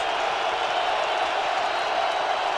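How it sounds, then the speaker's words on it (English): A stadium crowd at an NFL playoff game roars after a touchdown, a broad, sustained wash of cheering that holds steady and loud throughout. "If this crowd was loud before, they're louder now."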